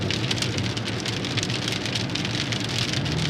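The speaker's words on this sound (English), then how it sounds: "which causes basically a lot of rain, as you can see the rain." Steady, dense downpour of heavy rain from an October storm in Arkansas drumming on surfaces, loud and continuous with no voices.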